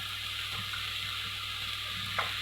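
Minced meat kofta frying with onion in a pan, a steady soft sizzle over a constant low hum, with faint stirring scrapes and one brief clink near the end; no talking.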